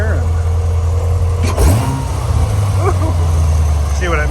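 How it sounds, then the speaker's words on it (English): A 2016 Chevrolet Corvette Z06 engine idles with the hood up, a low, throbbing rumble, then a sharp rev briefly swells and falls back to idle. "I like to show or have you hear the engine at a little higher RPM"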